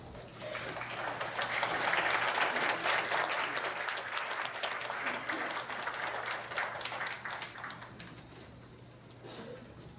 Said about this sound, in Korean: 그 앞에 가서 혹시 박수로 보내 주시기 바라겠습니다